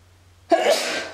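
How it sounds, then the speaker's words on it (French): A single sharp human sneeze, close and loud, bursting out after a brief quiet moment and trailing off within a second. "je vais éternuer."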